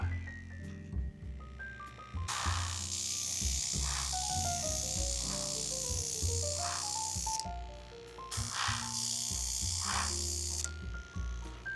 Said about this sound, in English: As you can see with an airbrush, I'm not getting a lot of paint out